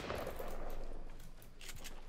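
Rapid gunfire from the Fortnite Battle Royale video game, a dense burst of shots that stays loud throughout the short stretch, with no talk over it.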